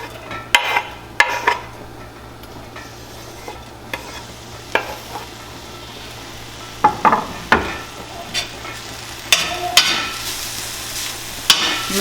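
Garlic, chili and ginger sizzle in a pan while being stirred for Cambodian BBQ ribs, a continuous frying hiss broken by sharp, irregular scrapes and clacks of the utensil against the pan.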